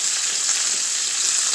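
A poblano chile fries in hot oil with a dense, bright, steady hiss that stays loud and even throughout, with no talking.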